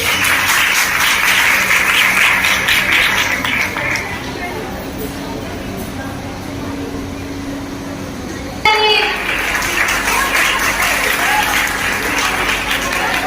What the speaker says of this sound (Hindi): ये जोरदार तालियां